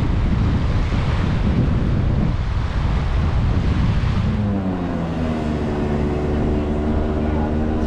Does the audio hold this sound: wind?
yes